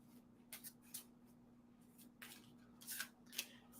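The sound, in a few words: shuffling cards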